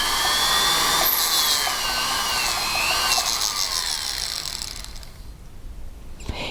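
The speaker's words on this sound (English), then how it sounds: "And you can continue to drill and enlarge that hole as much as you like." An electric drill bores into a wet pearl to enlarge its hole, a steady high whine that wavers in pitch, then tapers off near the end.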